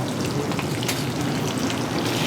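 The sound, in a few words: garlic and broccoli rabe sauteing in oil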